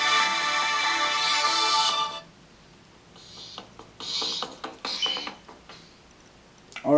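A phone ringtone plays loud and steady for about two seconds, then breaks off. Quieter clicks and tapping follow, with a few chirpy tones near the end.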